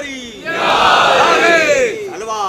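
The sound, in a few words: crowd chanting religious slogan Nara-e-Haidari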